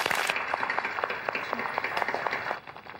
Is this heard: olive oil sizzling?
no